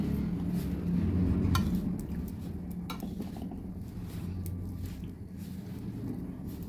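Jaggery being kneaded into thekua dough in a bowl, giving a steady scraping and squelching of hands against the vessel with occasional light clinks, close and continuous.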